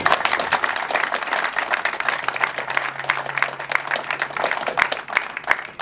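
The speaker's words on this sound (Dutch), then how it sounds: "Wij klappen." An audience applauds steadily, with many hands clapping in a thick, slightly uneven rhythm, close and fairly loud throughout.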